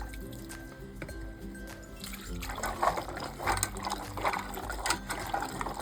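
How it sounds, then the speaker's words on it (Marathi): Raw cluster figs being washed by hand in a vessel of water, with sloshing, dripping and squishing that starts quietly and turns into steady, busy splashing partway through, close by with no talking. "हे चांगले चार ते पाच पाण्याने आपल्याला स्वच्छ डोळ्या सर्व धुवून घ्यायच्या आहेत"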